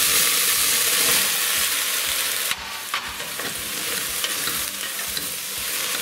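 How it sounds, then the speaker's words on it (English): Celeriac soup ingredients being stirred in a pot, a steady close scraping and sloshing with a faint sizzle beneath, one sharper knock of the spoon partway through. "Give it a good mix."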